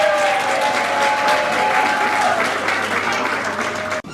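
Dense, steady applause from a large crowd of women saluting a leader, loud and sustained before stopping abruptly near the end.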